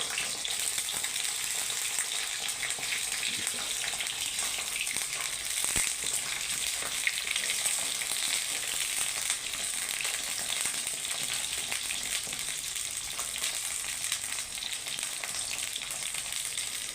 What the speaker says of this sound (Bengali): বেগুনটা আমি লাল করে একটু ভেজে নেব।